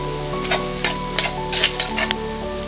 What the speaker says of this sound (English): let's add in our sliced garlic and give it a stir